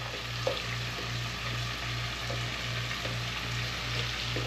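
Chunks of aromatics fry in melted butter and grease in a pot on the stove. The sizzle is soft and continuous, with a low steady hum and occasional small pops.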